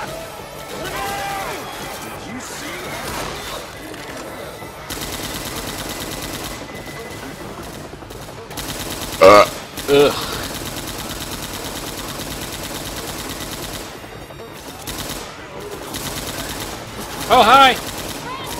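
Gunfire in the zombie shooter game Left 4 Dead 2 plays under steady game noise, with a few louder bursts of shots standing out near the middle and the end, while a player talks over it.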